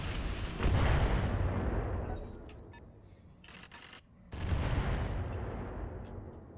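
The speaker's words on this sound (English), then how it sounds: "A lot of LRMs over there." Long-range missile barrages in the RogueTech mech combat game, heard as two heavy rumbling waves of launches and impacts separated by a brief lull, loud and dense with no talking.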